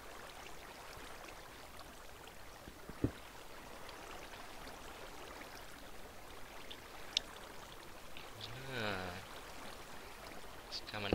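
Water flowing in Minecraft, coming out of a ravine, heard as a steady, soft rushing and trickling wash that runs throughout, with a few faint clicks and a brief low warble near the end.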